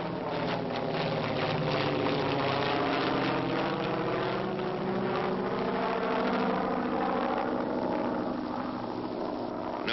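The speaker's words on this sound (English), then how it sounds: "Note the takeoff of the PBY before the glider." Droning piston engines of a PBY aircraft roar steadily during takeoff while towing a CG-4A glider, a loud continuous hum with throbbing tones that holds for the whole stretch.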